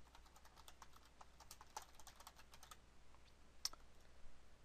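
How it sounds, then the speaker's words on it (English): Faint, quick keystrokes on a computer keyboard in a quiet room, a loose run of light clicks with one sharper tap near the end. "We're going to type in our campaign name here."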